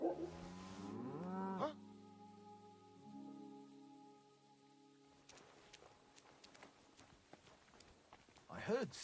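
Cow in Kingdom Come: Deliverance II, one long drawn-out moo at the start, then soft hoof clops and faint game ambience, quiet, no talk.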